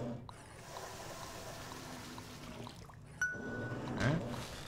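Toilet flush in the Valve video game Aperture Desk Job: a low watery rush and trickle that dips, then surges louder near the end with a brief swirl, heard alone without voices.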